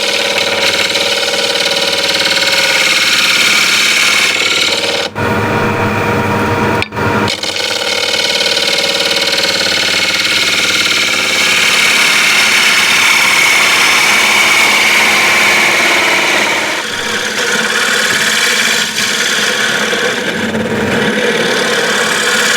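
Wood lathe spinning a walnut and ash bowl blank, a steady loud motor whine running throughout with two brief dropouts early on, no talking.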